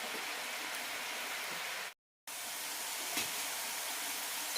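Beetroot chips fry in oil over a medium flame, giving a faint, even sizzling hiss with a brief drop to silence in the middle.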